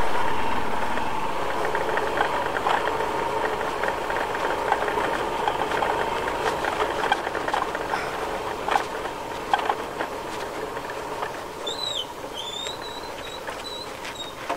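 A motorbike engine idles in a steady low chug with a faint knocking rhythm, at moderate distance, while a few thin bird chirps come through near the end.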